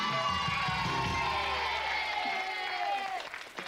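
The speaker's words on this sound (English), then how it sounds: "Give him a round of applause." Studio audience of a 1996 TV game show applauding and cheering, a full roar of clapping and whoops that tapers off toward the end.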